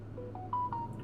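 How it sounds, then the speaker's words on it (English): A phone notification chimes during a game session, a few short tonal beeps stepping upward, with a longer steady tone near the middle, over a low constant hum in the room. "My phone also just went off and that startled me."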